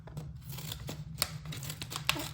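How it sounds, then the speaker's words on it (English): Scissors snip through blind bag packaging in a few sharp cuts, with crinkling and rustling of material between them, close and fairly quiet. "we're going to use our scissors and we're going to cut open the top."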